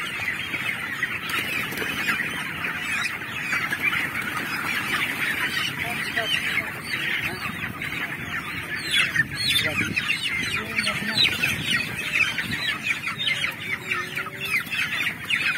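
A crowd of broiler chickens in a coop during harvest clucks and squawks nonstop, a dense, busy chorus of many birds close by, with occasional louder calls rising above the din.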